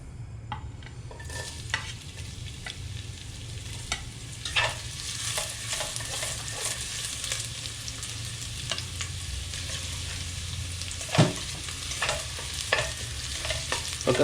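Ginger sizzles in hot cooking oil for chicken tinola, a constant close frying hiss broken by scattered clicks and scrapes of a utensil stirring in the pan, with no talking.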